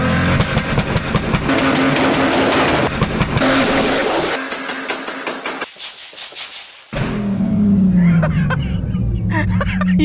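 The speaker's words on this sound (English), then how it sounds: "That's some serious two-step. That is the best two-step." A turbocharged Lexus IS300 on two-step launch control at full throttle makes loud rapid exhaust pops and a revving engine, with bursts of staccato crackle, a brief drop-off, then a harsh roar, and voices talking over it.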